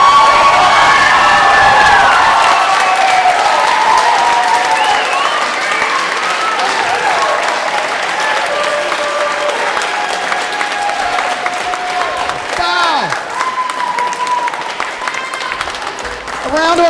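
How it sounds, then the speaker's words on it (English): Talent show audience bursts into loud sustained applause and cheering with whoops and children shouting, while music plays and an announcer speaks over the crowd. "A round of applause."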